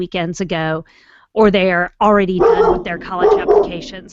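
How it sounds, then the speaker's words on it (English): A pet dog barks at home while someone talks, short yips and barks mixed under and between his close, loud speech. "That's my dog"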